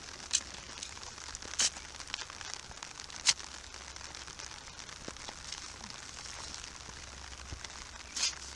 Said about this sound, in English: we're working in the rain because it's raining